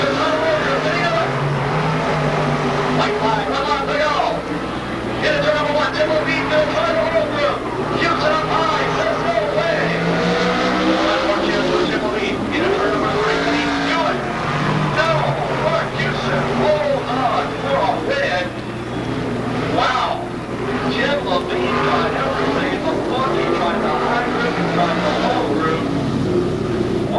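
Race cars roaring around the final lap at Skagit Speedway in 1990, a loud continuous engine drone with rising and falling revs as cars pass, heard under steady excited announcer commentary.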